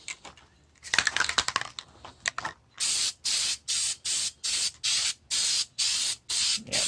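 Flex Seal coating sprayed from an aerosol can onto an Explorer 200, first in loose irregular bursts, then a steady run of about nine even, close hissing sprays with short pauses between them.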